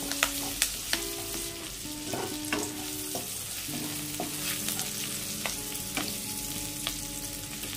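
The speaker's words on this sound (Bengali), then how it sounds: "এখানে আমি 6-7টি কাঁচা লঙ্কা দিলাম।" Six or seven green chillies fry in oil in a pan for a prawn and taro-stolon dish, sizzling steadily while a utensil stirs and scrapes in irregular clanks and knocks, with no voices.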